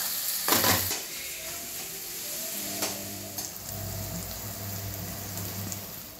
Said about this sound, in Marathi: कांदा टाकून घ्यायचा आहे आणि कांद्याचा रंग गुलाबी होईपर्यंत कांदा चांगला परतवून घ्यायचा आहे